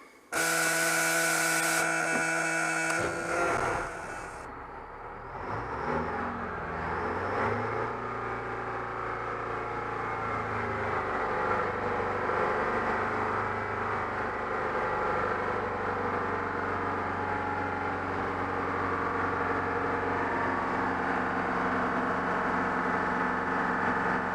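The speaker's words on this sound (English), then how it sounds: "when I start it up, I can rev it up, because you need to do that to get the air out of the system" A car engine starts after a fuel filter change, catching with a brief burst and settling into a steady running drone, loud and close, with revving to clear air from the fuel system.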